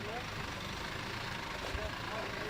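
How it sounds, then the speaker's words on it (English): A 4x4 in first gear on an off-road drive day produces a low, steady drivetrain and engine drone, with faint voices in the background. "That's just the gearbox. That's the first gear"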